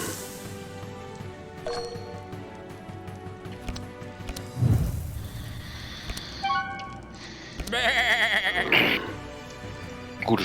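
Sheep bleating in the video game Across the Obelisk, a couple of clear bleats over busy game music and effects, with no talk.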